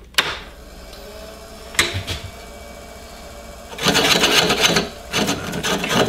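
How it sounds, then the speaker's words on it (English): Spindle gouge taking light cuts on a walnut bowl tenon spun on a lathe, heard as dry scraping bursts with rasping wood noise, louder broadband cutting in the second half over a steady motor hum. "take light cuts and get rid of that tenon. And I'm gonna use a spindle gouge for that."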